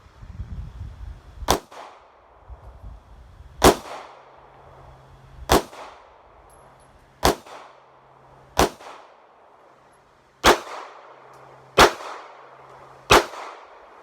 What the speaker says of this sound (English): I'm going to shoot at the top left ring on that silhouette target